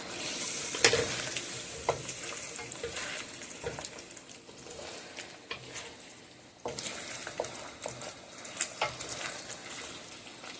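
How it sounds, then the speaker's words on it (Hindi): Chicken karahi with green chillies being stirred and fried in a pan, a steady close sizzle broken by repeated scraping stirs and clinks, with no talking. "इसको अच्छी तरह से हमने भूनना है।"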